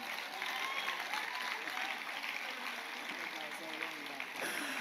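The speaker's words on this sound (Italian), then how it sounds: "Facciamo un applauso" Audience applause at an outdoor comedy show, a steady, fairly faint wash of clapping from a crowd, with some voices mixed in underneath.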